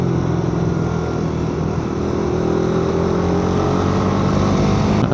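A motorcycle rides along wet Kennon Road toward Baguio, overtaking slower traffic, its engine droning loud and steady with rushing wind and road noise close by throughout.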